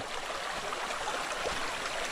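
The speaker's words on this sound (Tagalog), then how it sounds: "Yan, ang po ang tubig. Ang linis po niyan." A clear forest stream flows with a steady, even rushing and babbling close by, with no pauses or voices.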